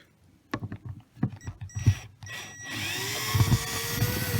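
Power driver backing out Robertson head screws from an RV roof skylight frame, with short bursts of whirring followed by a steady, louder whine near at hand.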